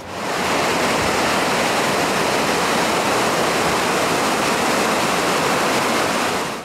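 Water pouring over a dam where a snowmobile trail crosses, in winter: a loud, dense, continuous rushing roar, steady throughout with no pauses.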